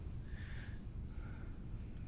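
Audible breathing during a yoga alignment class: steady, close, airy inhales and exhales over about two seconds, with no talking.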